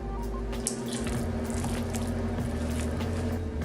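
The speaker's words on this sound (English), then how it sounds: "Go ahead and stir another 1/3 in there." A spoon works wet ingredients into a clumpy dry vegan cornbread mixture, making continuous soft, wet squishing close by over a steady low background hum, with no voices.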